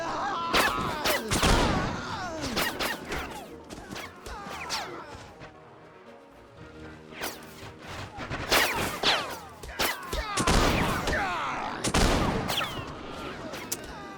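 Gunfire in the video game Warsword comes in loud clustered volleys of sharp shots, with a quieter lull in the middle before another heavy barrage and scattered reports.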